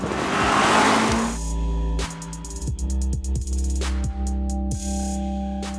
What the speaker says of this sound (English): the acceleration is absolutely addictive, and the brakes, this car is fitted with carbon ceramic brakes and they bite nice and hard